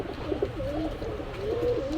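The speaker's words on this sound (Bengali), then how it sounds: "খুব সুন্দর কোয়ালিটির কবুতর নাকটানা কালদম।" Naktana Kaldom pigeons at a market in Gollamari, Khulna, coo in a steady, throaty rolling murmur close by, continuous through the moment with no voices.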